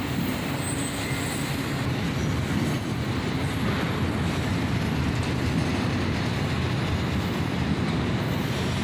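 Loud and near, a CSX freight train of auto rack cars keeps rolling by in a constant heavy rumble, with steel wheels grinding and faint squealing throughout.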